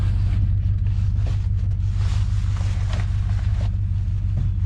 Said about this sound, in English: let's listen to this steering